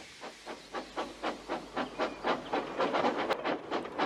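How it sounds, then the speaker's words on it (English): A steam locomotive chuffs in a steady rhythm, regular hissing puffs of exhaust repeating about three times a second as the train pulls along. "And James was able to pull the train."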